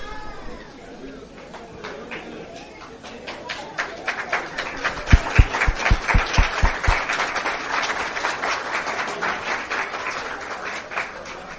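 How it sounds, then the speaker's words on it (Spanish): Thin, half-hearted applause from an audience at a bilingual Spanish-Portuguese motivational event, scattered claps building slightly over background voices and a few sharp low thumps. "Esse aplauso está marrunche. Está muito fraco."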